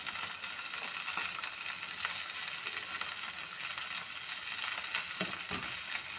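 Coriander, mint and spinach frying in a pan with cashews give a soft, steady sizzle with light stirring scrapes, close and continuous, with no talking.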